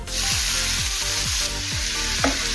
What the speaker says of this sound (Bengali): পেঁয়াজ হালকা ব্রাউন করে ভেজে নেব